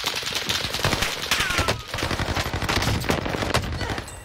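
Dual-wielded Marco 5 submachine guns firing in the Call of Duty Fortune's Keep game, loud rapid bursts of automatic gunfire chattering back to back with short pauses.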